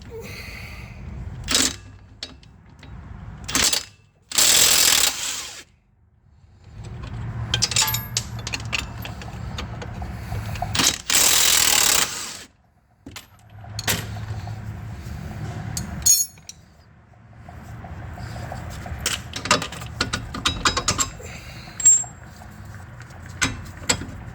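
Ratchet wrench working the 21 mm sway bar nut and bolt off a 2008 Nissan Altima during a driver-side CV axle replacement: bursts of rapid metallic clicking and clanks, separated by brief pauses, close and fairly loud.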